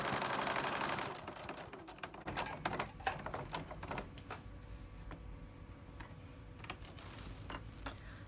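A sewing machine stitches decorative fabric onto a kitchen towel, giving a rapid, fairly faint mechanical clatter with irregular ticking bursts and a short run of denser stitching at the very start.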